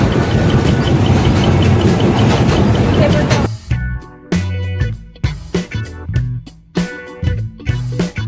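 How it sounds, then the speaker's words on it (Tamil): A toy train runs on Elephanta Caves island, first a loud, dense rumbling clatter, then a broken series of rhythmic metallic clanks and knocks close by. "இந்த தடவை பார்த்தீங்கன்னா டாய் ட்ரெயின் ஒர்க் ஆகிட்டு இருக்கு"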